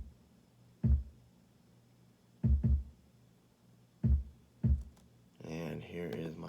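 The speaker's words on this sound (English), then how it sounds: "So the kick sounds like this." A kick drum sample in a beat thumps low and punchy, single hits and a quick double hit spread over several seconds, before a voice starts talking near the end.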